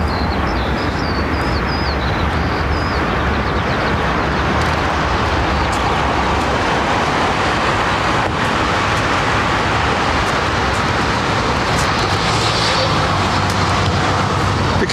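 Big airliner arriving on runway 27R at London Heathrow, a loud, steady roar of engines and rushing air that holds throughout, close by and unbroken, with no voices.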